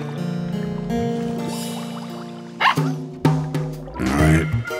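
Cartoon puppy in a children's animated Halloween haunted-house scene gives a few short, sharp barks near the middle and end, set over bright background music and sound effects.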